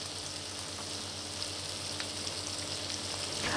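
John Dory fillets and scallops, lightly salted and peppered, frying together in a pan, a steady close sizzle with faint crackles throughout and no talk.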